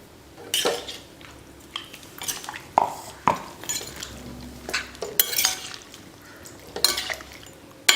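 A spoon clinks and scrapes against a pot as roasted, powdered masala is stirred into a country chicken pepper gravy, with irregular metallic knocks and soft scraping strokes close by, no voices.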